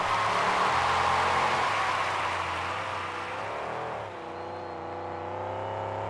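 A monster truck engine roars as it launches over a car pyramid at a freestyle show, a loud sustained growl with pitch shifts as the throttle changes, close and without talk.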